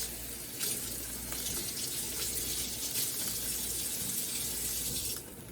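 Tap water runs steadily into a sink as food is rinsed while cooking hanging tender steak, a continuous broadband splashing gush that cuts off near the end.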